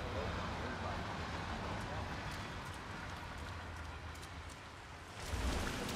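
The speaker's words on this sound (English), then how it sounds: "Rain, rain, nothing but rain." Steady rain falling in the Hitman World of Assassination mission End of an Era, a continuous broadband wash that holds even throughout and swells louder near the end, with a voice talking over it.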